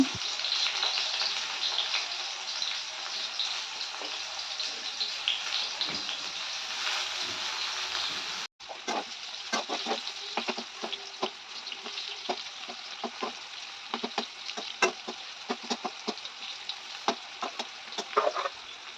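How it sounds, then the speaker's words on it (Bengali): Bitter gourd (karela) fries in hot oil, giving a steady, close sizzle with occasional crackles and pops for the whole stretch, a brief break midway, and no talking. "এদিকে করলাটা ভাজা হচ্ছে"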